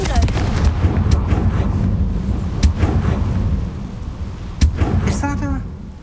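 Sharp, cracking blasts from the Confringo explosion spell in Hogwarts Legacy hit hard over a low rumble, with several punchy impacts spread over six seconds and a brief voice near the end.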